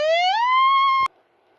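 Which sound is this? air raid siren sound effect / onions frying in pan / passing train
air raid siren sound effect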